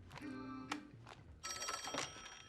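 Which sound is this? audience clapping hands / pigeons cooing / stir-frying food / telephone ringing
telephone ringing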